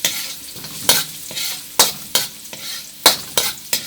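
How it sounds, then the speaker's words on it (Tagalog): Steady crackling sizzle of ginger frying in hot oil, broken by repeated sharp scraping stirs at irregular intervals. "Try nating maprito ang ating luya"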